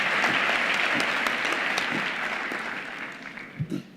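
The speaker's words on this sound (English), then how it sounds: "let's appreciate her rendition with another round of applause." Graduation ceremony audience in a university hall applauding in a steady round of clapping that fades slightly toward the end, with a few louder individual claps near the close.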